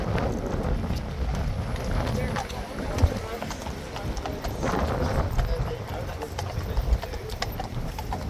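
Horse hooves clip-clop steadily on a street as a horse moves among a crowd near The King's Guard, with people talking and crowd noise throughout and a few sharper hoof strikes standing out.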